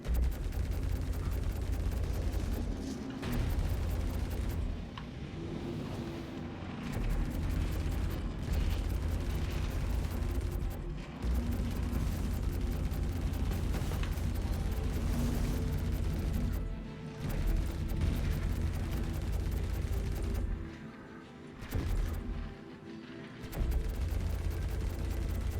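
Sustained gunfire hammering a starship's mid shield in Star Citizen, a dense, loud barrage of rapid impacts with a few short lulls and no talk.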